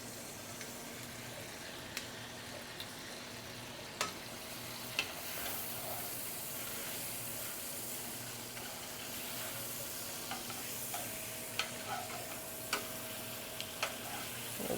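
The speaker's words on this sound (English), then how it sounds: "Let that sear a bit more." Food searing in a hot pan, a steady quiet sizzle with occasional soft ticks and clicks scattered over it, with no talking.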